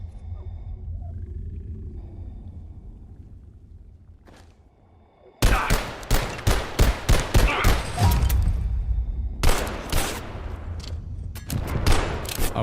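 Gunfire in the video game Abiotic Factor: after a quiet, low-rumbling lull, a sudden loud burst of rapid repeated shots erupts, pauses briefly, then resumes in another close, sharp volley with rumbling echoes.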